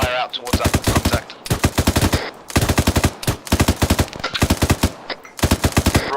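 Machine gun fire in the military game ArmA 3: four long bursts of rapid, evenly spaced shots, loud and close, separated by brief pauses.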